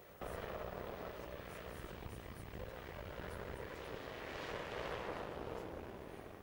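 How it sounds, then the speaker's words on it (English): Air Force helicopters flying an aerial search over a coastal area give a steady, faint, distant rotor drone with a broad noisy wash, constant throughout. "All this while, Air Force helicopters had mounted an aerial search to complement ground efforts by Marine Police"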